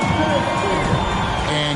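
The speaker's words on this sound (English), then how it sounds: "Please give a big round of applause for your" Basketball arena crowd at a Grizzlies game cheering and whooping in a dense, continuous roar, with an announcer's voice running over it.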